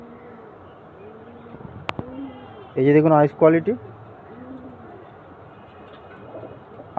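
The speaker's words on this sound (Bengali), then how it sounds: "এই দুটো পায়রা দেখুন এটা ফটকা পায়রা আছে এটা কালাঙ্কা" Fatka and Kalanka pigeons coo in soft repeated arcs throughout, while someone speaks briefly over them in the middle.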